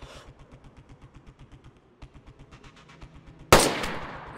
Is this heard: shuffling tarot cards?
no